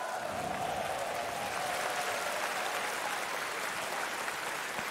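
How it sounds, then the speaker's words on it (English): Steady audience applause at The International 2018 Dota 2 tournament fills the whole stretch, a dense, even wash of clapping from a large crowd with no clear pauses. "Round of applause for Fnatic."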